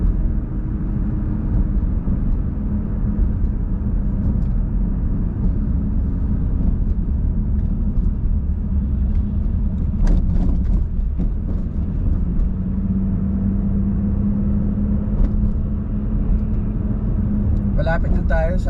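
A car drives along a road in poor visibility, its engine and tyre noise forming a steady, close rumble throughout, with a person talking over it.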